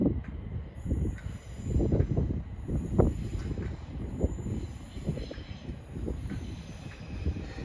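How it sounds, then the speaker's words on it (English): A London Northwestern Railway class 350 passenger train rolls into Rugby station, its wheels rumbling close by while high, intermittent squeals and a soft hiss rise and fade over the approach. "here comes the slightly delayed 10:42 London North Western Rail service for Crewe via Neaton and"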